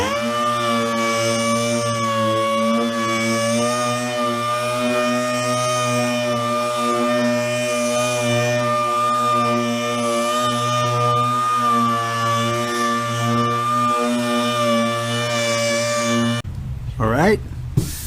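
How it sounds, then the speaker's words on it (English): A dual-action sander works a car body panel with 220 grit sandpaper, giving a steady loud whirring drone with a constant pitch that runs unbroken for most of the clip before cutting off near the end. "let's do a piece so you can see how the 220 grit sandpaper looks like"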